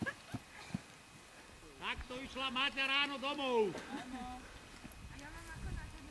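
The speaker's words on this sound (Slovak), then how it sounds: "Dobre, utekaj za koňom." Horse hooves clip-clop during a Hubertus ride, as scattered thuds on the ground mixed with a person talking nearby.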